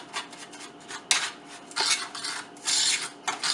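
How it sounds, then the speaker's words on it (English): Butter is worked into pie crust crumbs in a bowl for an ice cream pie, giving repeated scraping, rubbing bursts of utensil against dish, close and fairly quiet, with no voices. "The rest of the butter. Let's get it mixed in there real well."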